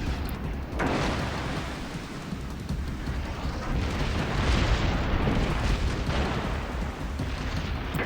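Rapid secondary-battery gunfire from a Bismarck battleship in World of Warships Legends, a dense, continuous barrage of booming shots and explosions rolling on without pause at steady loudness.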